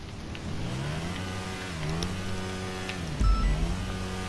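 A small go-kart engine in a video game drones and revs up and down steadily, with a brief louder thump near the end and no talking.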